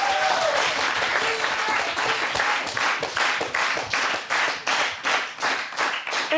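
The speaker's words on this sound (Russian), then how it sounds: "Поэтому аплодисменты!" Applause at a school quiz game, a dense burst of clapping from the audience that thins into loud, rhythmic unison claps toward the end, with a voice briefly heard at the start.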